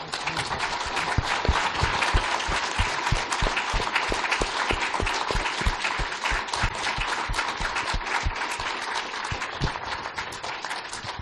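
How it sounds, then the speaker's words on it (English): A lecture audience gives a sustained round of applause for Jeffrey Rosen after his talk on the pursuit of happiness, dense steady clapping from a sizable crowd lasting the whole stretch without pause. "a round of applause for Jeff Rosen"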